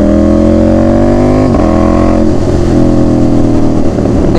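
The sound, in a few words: motorcycle riding heard from inside the helmet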